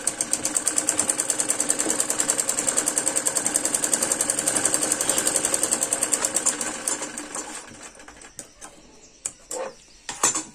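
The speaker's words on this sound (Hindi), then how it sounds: "और अब इसके ऊपर दबाने वाली सिलाई लगा लेंगे।" A sewing machine topstitches a salwar in a long, steady run of rapid needle strokes, close and even, then slows and stops into a few scattered mechanical clicks and handling sounds.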